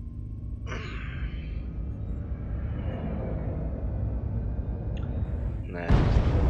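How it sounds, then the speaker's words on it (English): A sharp burst of explosions in the mech combat game MechWarrior Online erupts near the end, breaking through a steady, busy rumble of game noise that runs throughout. "Woo! Little explosions!"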